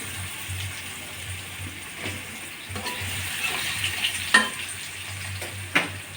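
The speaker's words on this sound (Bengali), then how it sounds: "একটু লবণ দিয়ে দিচ্ছে আর একটু হলুদ আলুগুলো লাল লাল করে ভেজে নেব" Potatoes frying in hot oil in a pan with salt and turmeric for a Bengali rohu fish curry, a steady close sizzle running throughout, with occasional louder stirring scrapes and clacks and no talking.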